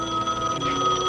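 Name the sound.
telephone ringing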